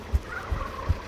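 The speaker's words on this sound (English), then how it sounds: "damn turkeys are on the way." Turkeys on the way give a quick gobbling call with three low thumping pulses, faint and somewhat distant over a steady background hum.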